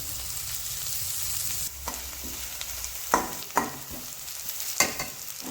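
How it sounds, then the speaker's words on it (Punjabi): Carrots fry in a pan toward browning, giving a steady sizzle that softens midway, with several sharp scraping stir strokes of a utensil near the end and no voices. "ਗਾਜਰ ਨੂੰ ਪਹਿਲਾਂ ਥੋੜਾ ਜਿਹਾ ਹੋਰ ਭੁੰਨਣਾ ਹੈ ਬ੍ਰਾਊਨ ਹੋਣ ਤੱਕ"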